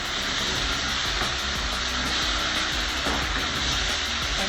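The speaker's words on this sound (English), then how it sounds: "So what I do is I give this a quick mix or a stir." Fish stew with tomato paste is stirred in a pot over heat, giving a steady close sizzle and hiss with faint scraping throughout and no talking.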